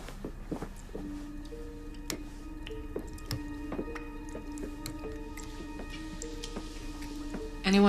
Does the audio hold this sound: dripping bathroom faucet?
yes